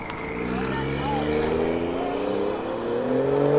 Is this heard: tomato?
no